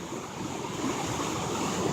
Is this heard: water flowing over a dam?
yes